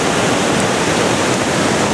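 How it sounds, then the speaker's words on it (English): A waterfall across a valley, heard as a loud, steady wash of rushing water noise with no breaks, alone and without voices. "Waterfall across the way."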